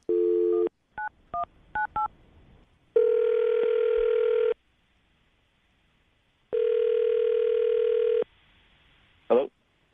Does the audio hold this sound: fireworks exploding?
no